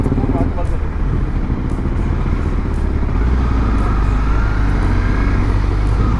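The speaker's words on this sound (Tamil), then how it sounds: "வண்டி அப்படியே ஸ்மூத்தாக விங் விங் விங் அப்படின்னு சவுண்டு கேட்குது" A superbike engine runs smoothly in a garage, a loud, steady low rumble close by, with someone talking over it throughout.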